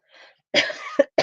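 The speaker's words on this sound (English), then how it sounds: "I do have a cough." A soft breathy sound, then a close cough followed by two quick harsh coughs in rapid succession.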